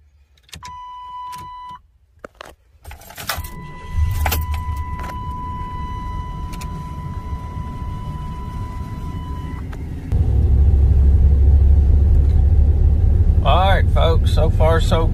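A 1997 Chevy with a newly replaced vehicle speed sensor: warning chimes and jangling keys, then the engine cranks and catches, settling into a steady idle before rising to a louder, deeper run near the end.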